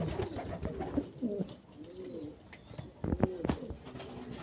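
Show King pigeons, an imported breed, coo in soft repeated rolling phrases close by, with a few louder calls near the end and faint background rustling.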